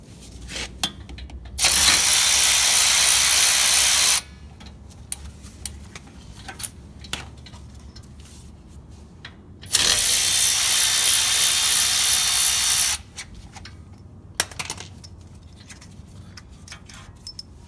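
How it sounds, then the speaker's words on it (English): Ratchet with a short 10mm socket loosening the brake caliper bolts on a 2004-2015 Nissan Titan's rear brakes, two long bursts of rapid clicking separated by quiet pauses with a few faint knocks and taps. "take a short well 10mm socket and remove the top bolt on the caliper and the bottom bolt as well."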